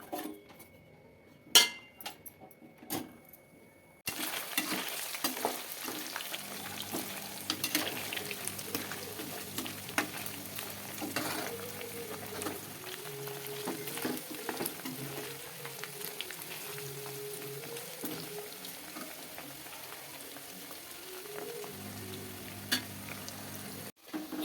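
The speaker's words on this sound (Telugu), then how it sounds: "ఇప్పుడు ఆయిల్లో వేయించుకుందాం" A few scattered clinks of utensils on a pan give way to a steady sizzle as boiled chicken pieces fry in oil, with occasional stirring scrapes over the hiss and no speech.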